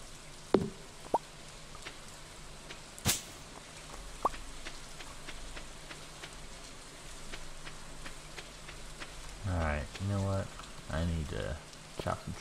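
Steady rain falls in the Stardew Valley farming game, a soft continuous patter with occasional louder drops and plops, while a voice talks briefly near the end.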